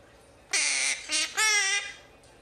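A pet parrot lets out three loud, harsh squawks in quick succession, close to the mic and heard on its own.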